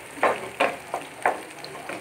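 Onions frying in a pan for paneer bhujia, a soft low sizzle broken by about five short scraping stirs spaced at uneven intervals, close and without speech.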